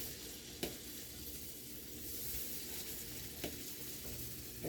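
Spoonfuls of dahi vada batter fry in hot oil, giving a steady bubbling sizzle with a couple of sharp clicks and knocks from a spoon, all soft and close.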